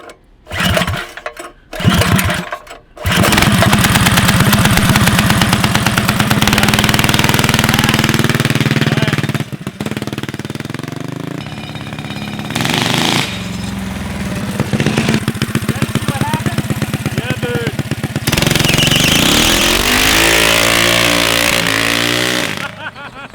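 Go kart with a swapped-in 212 engine on a naked ride, its small engine revving loudly and steadily with rising and falling pitch as it runs, after a few short bursts at the start.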